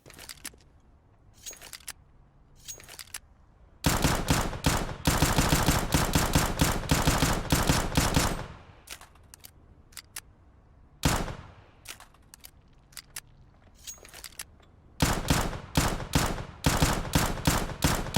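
Five-SeveN pistol fire from the game Counter-Strike: Global Offensive comes in loud, rapid volleys of sharp shots, separated by sparse single shots and brief pauses.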